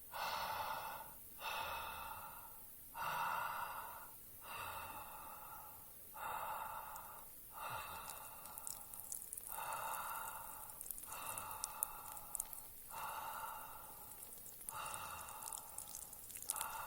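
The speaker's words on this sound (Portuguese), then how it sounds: "começa a respirar só pela boca" Steady mouth breathing during a jala neti nasal rinse with salt water from a neti pot: about eight rhythmic, loud, close breaths, each lasting roughly a second, with faint water drips between them.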